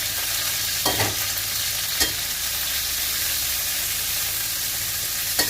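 Pork stir-fried with five-spice sizzles steadily in a pan, a continuous hiss broken by a few sharp scrapes and clacks of a utensil against the metal.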